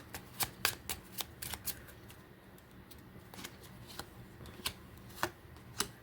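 Maleficent Oracle cards being shuffled by hand, a run of crisp, close riffling snaps and soft slides coming in irregular bursts with short pauses, alone and without talk over a quiet room background.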